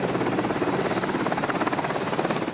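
A military helicopter flies between US Navy warships, the USS Dwight D. Eisenhower and the USS Mason, in the southern Red Sea. Its loud, close, steady rotor chop pulses rapidly and fills the whole stretch, with no talk.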